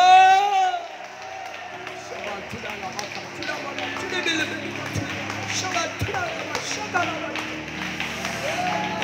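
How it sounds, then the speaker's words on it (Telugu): A church congregation at Sunday worship claps loudly in praise. A dense, continuous patter of many hands runs under voices, with a sung or called phrase at the start. "ఒకసారి గట్టిగా చప్పట్లు కొడుతూ స్తోత్రం"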